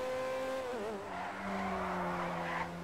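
A LaFerrari supercar in GTA 5 revs its engine with a rising and falling howl, then its tires squeal into a sustained skid, loud and close with no talking.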